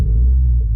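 A Renault Clio 4 RS 200 engine restarting and idling with a loud, steady low rumble close by, no speech over it, a brighter burst appearing right at the end.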